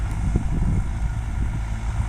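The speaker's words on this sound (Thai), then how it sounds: "ก็จะเป็นแมคโครไล่เก็บขอบ" Excavator working a pond edge on a dig site, a low steady diesel rumble with uneven mechanical knocks and some wind noise, no voices.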